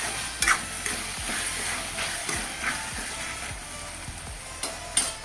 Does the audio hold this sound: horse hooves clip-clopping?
no